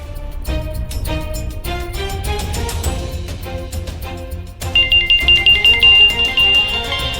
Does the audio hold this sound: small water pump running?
no